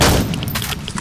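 Gunfire in the video game ZERO Sievert, several sharp loud shots in quick succession over a dense booming background, with no talk over them.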